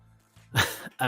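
A short throat-clearing cough bursts out twice near the close, loud and close, after a quiet stretch with faint room tone during a casual conversation about action figures and toys.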